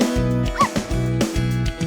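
A dog barks a few times in short yips over a bouncy musical backing.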